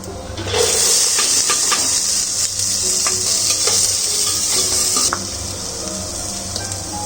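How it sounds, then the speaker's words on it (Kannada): Onions and curry leaves fry in a pan with a steady, loud sizzle, occasional clinks of a spoon stirring, close up and without speech. "ಈರುಳ್ಳಿ ಕರಿಬೇವು ಫ್ರೈ ಆಗಿದೆ"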